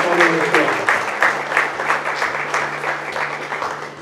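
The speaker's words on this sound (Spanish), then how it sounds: "quiero pedir un aplauso para él" Applause from the audience at a press conference, a steady round of clapping under a speaking voice.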